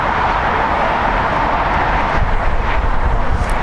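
A 25-year-old United Airlines Boeing 757-200 arriving on the south side of LAX, its steady jet roar broad and continuous throughout, swelling slightly near the end with no talk over it.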